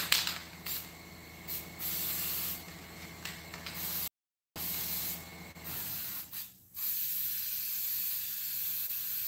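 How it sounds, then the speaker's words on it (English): Weldwood spray contact cement hisses from an aerosol can onto a diamond plate surface in repeated bursts, short sprays then longer steady ones broken by brief pauses, close and fairly loud. "So, this is Weldwood Spray Contact Cement. So, I'm going to use it to get some texture on this bad boy."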